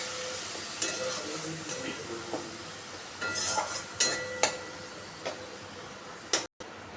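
Turmeric and red chili powder spice paste frying in a pan with a little water, giving a soft steady sizzle broken by scattered clicks and scraping stirs, fairly quiet and close, with no talk.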